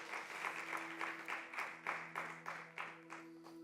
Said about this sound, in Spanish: Denle un fuerte aplauso al Rey de Reyes y Señor de Señores